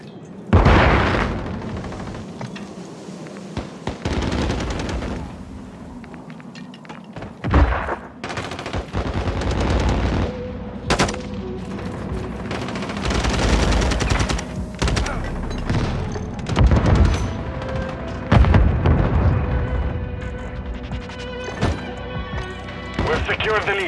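Heavy gunfire in Call of Duty: Modern Warfare 3 multiplayer, with rapid machine-gun bursts, single shots and booming blasts crowding the whole stretch, loud and close, with game voices calling out between volleys.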